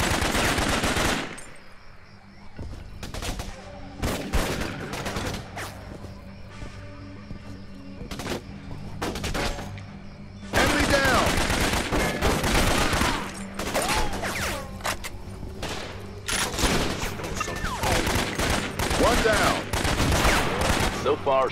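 Heavy gunfire aimed at the player in the Raven Squad war game, near-continuous volleys of rapid automatic shots and loud cracks in long dense bursts, briefly thinning before resuming at full intensity.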